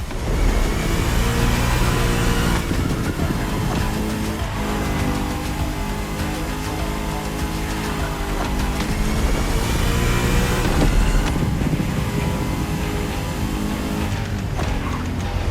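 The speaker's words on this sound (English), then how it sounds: "Now you can let the supercharged V8 do the talking." Supercharged V8 Shelby GT500 in The Crew Motorfest racing game roaring continuously at high revs, loud and sustained with rising and falling engine pitch and gear changes, no talking.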